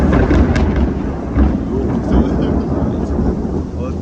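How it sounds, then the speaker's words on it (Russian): Heavy thunderstorm over a house in Turkey, loud rolling thunder rumbling continuously over the dense roar of pouring rain, close and enveloping for the whole stretch. "такой дождище лил. Гром, молния, прям грозовой фронт над нашим домом проходил"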